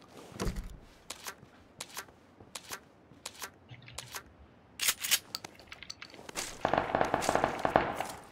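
Gunfire in the PC shooter PUBG, heard as a string of sharp separate cracks roughly every half second to second, then a denser, louder burst of shots near the end.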